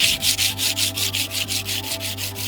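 Fine 320-grit sandpaper rubbed over a carbon bike frame, giving a steady run of rhythmic back-and-forth scratchy strokes, close and loud, over a faint background hum with no talking.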